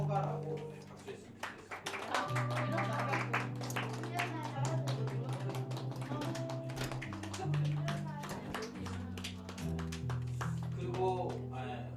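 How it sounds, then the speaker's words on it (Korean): A congregation claps together at a Korean New Year's Eve worship service. Crisp, repeated claps run throughout over instrumental music, while a speaker talks. "우리 박수로 한번 또 새해에도 잘 커가라고 박수했으면"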